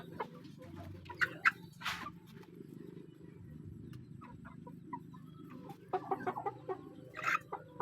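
A chicken clucking in short, scattered bursts against a quiet outdoor background, with a few sharper calls near the start and end.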